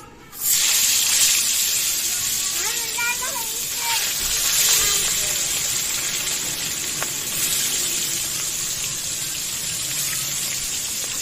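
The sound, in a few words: spiced pabda fish frying in hot oil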